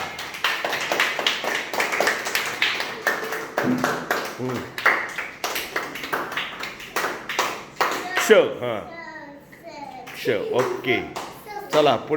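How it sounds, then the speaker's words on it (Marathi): Schoolchildren in a first-grade village classroom clap their hands in sharp, rapid bursts of applause, close and fairly loud, mixed with children's voices and talking throughout. "अरे वा टाळ्या"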